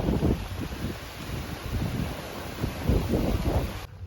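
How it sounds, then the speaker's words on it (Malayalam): Strong wind shakes the trees in a village, with a loud gusting roar and rustling rising and falling in waves, plus buffeting against the microphone. "ഇത് കേട്ടോ, കാറ്റടിച്ച് മരമെല്ലാം കൂടി ഇട്ടിട്ട് ഉലയ്ക്കുന്നുണ്ട്."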